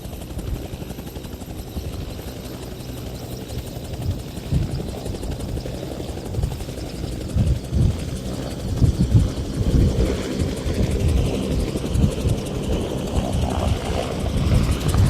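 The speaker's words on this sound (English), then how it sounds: "When the helicopters get ready to take off, make sure everything's clear the pilot, everything's good to go, and then they just go light on skids and then they're off." A medical helicopter spools up and lifts off, its rotor thumping in a steady loud rhythm that builds and grows more forceful toward the end, heard close by without talk.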